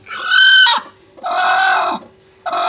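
A large hen gives three loud, close clucking calls in separate bursts with short pauses between them, heard alone without talk.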